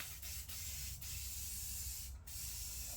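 Rust-Oleum red oxide primer sprays steadily from an aerosol can onto a Honda EU3000is generator, a continuous close hiss with brief pauses between passes.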